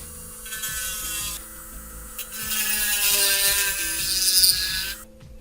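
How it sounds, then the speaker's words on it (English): A handheld nail drill grinds channels into a plastic Bandai Yamato 2202 Mecha Colle model kit, a steady high-pitched whirring buzz running close and continuous for about five seconds before cutting off abruptly. "So now I'm going to sort of grind out the channels here"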